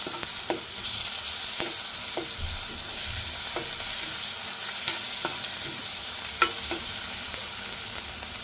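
Crushed garlic and green chilli paste frying in a pan, with a constant hissing sizzle and a few sharp spoon taps and scrapes spaced through it, near and alone.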